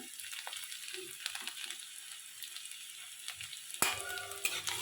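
Chopped ginger and garlic sizzling in hot oil as a spoon stirs them, a steady close crackle with scraping stir sounds and a louder burst of sizzle near the end, no talking.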